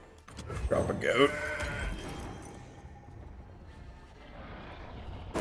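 A goat card in Legends of Runeterra gives a short, wavering bleat near the start, loud and close, then fades into quiet game ambience.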